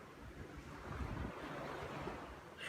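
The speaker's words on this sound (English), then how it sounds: "Amazing Atlantic Ocean." Atlantic Ocean surf breaking on a beach, a steady broad wash of rolling water with gentle swells, close and moderately loud, roughened by wind on the microphone and no talk.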